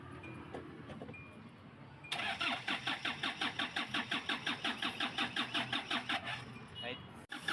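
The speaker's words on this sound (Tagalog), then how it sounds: "Sinubukan natin dyan na paandarin yung makina kaso ayaw talagang humandar." A Kia Bongo 3 diesel engine with no common rail fuel pressure cranks steadily for about five seconds in a fast, even rhythm without catching, loud and close after a quieter stretch of ambient noise.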